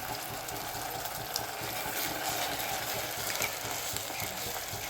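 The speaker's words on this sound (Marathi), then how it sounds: "आता आपण हे टमाट्याची पेस्ट टाकू." Tomato paste tipped into onions already fried pink in a pan for shahi kaju curry, giving a steady, close sizzle and bubbling hiss with faint stirring scrapes throughout, no voices.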